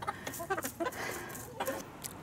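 Chickens cluck softly in a quick series of short, close calls, with a few separate clucks spread across the moment.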